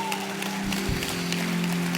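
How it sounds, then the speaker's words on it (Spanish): Congregation applauding during an evangelical church service, a steady wash of clapping lasting a couple of seconds with a faint held tone underneath. "Aplaude."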